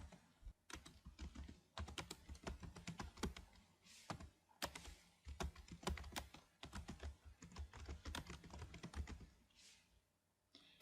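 Soft, quick keystrokes clatter on a computer keyboard in bursts with short pauses between them, quiet and close, with no voices.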